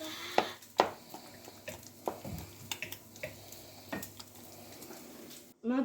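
A spoon stirs food around in a pan, with soft scraping, knocks against the sides and a faint sizzle in the background, set among light kitchen clatter.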